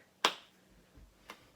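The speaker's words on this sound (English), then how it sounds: "Give me 3 more claps on both sides." Two sharp hand claps ring out during a seated chair mobility workout, about a second apart, close and crisp with no talking.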